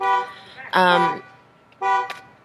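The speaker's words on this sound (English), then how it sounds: "how convenient is that, a car alarm?" A car horn-like electronic alarm blares in loud repeated bursts with short gaps, close by.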